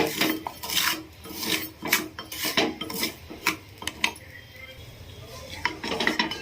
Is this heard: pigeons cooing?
no